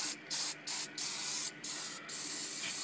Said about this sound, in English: I got some more of my hairspray, and I use that to